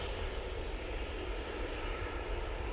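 A Jet2 passenger jet departing for Ibiza gives off a steady, broad engine roar that holds constant throughout, fairly distant, with no voices.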